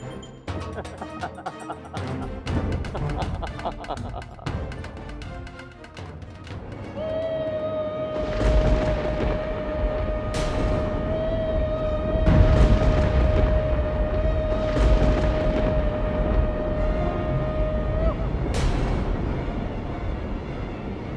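Deep booming blasts rumble through a dense, roaring soundscape, with a sustained electronic tone humming in the middle and sharp bursts recurring every few seconds.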